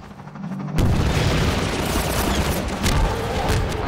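A deep booming explosion strikes a gunship in the Half-Life 2 video game, followed by a sustained loud rumble and crackling fire that stays dense to the end.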